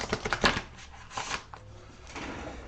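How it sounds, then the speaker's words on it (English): Rapid riffling flutter of a deck of cards being shuffled, close and crisp, in quick bursts that trail off into softer handling noise. "We're going to shuffle the deck."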